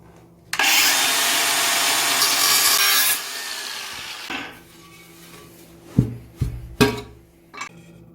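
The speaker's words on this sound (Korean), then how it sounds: "이제 이 타일을 재단을 해서 먼저 맞춰준 다음에 그 다음에 앵글 밸브를 조인하면 되겠습니다." A tile is cut with a power tool in a water-fitting repair, giving a loud continuous grinding rasp for a few seconds, then quieter scraping and a few sharp knocks and clatters as the pieces are handled.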